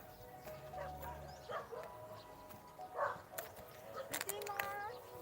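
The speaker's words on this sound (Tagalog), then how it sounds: "Ayan na yung aso." A dog barks and yips a few times at a distance outdoors near a mountain in hot weather, short faint bursts scattered between quiet background noise.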